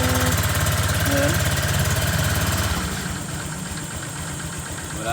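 A Honda Click 125 scooter engine idles close by with a rapid, steady putter that softens and settles partway through; no one speaks.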